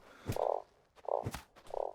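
Frog croaking in the desert survival game Starsand, three loud, close croaks each opened by a short click, spaced about a second apart with no speech.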